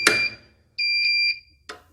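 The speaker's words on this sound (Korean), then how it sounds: "부저 소리가 멈추면서 정상으로 돌아오는 걸 볼 수 있습니다" An engine pump control panel buzzer alarm sounds in two steady electronic bursts, with a clicking switch noise before and after, close and fairly loud.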